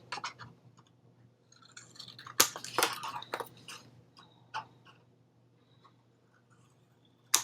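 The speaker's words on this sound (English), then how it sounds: "we're going to go from one fold to the next and cut off that triangle" Scissors cut a triangle off folded chipboard, heard as a few sharp, close snipping and crunching sounds in quiet, with a brief pause between cuts.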